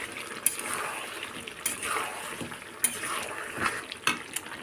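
Chicken fries in oil in a pan for pulao and is stirred, giving faint sizzling under repeated clinks and scrapes of a spoon against the pan at an uneven rhythm.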